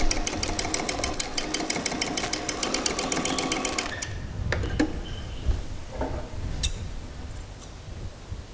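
A sewing machine stitches down a pocket on a pair of shorts, running in a fast steady mechanical patter for about four seconds, then stopping; afterward only soft handling clicks and light fabric rustles remain.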